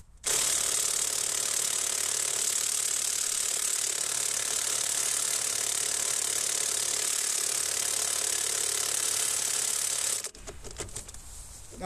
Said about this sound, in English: I'll show you first with the Milwaukee. I'll fire him on them and you see.